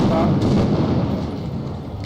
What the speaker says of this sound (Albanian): Po hidhen fishek zjarre dhe molotov në drejtim policët